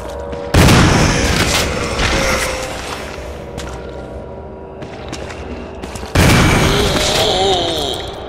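Two heavy shotgun blasts in Resident Evil 1 Remake, about five seconds apart, each a loud booming report with a long decaying tail.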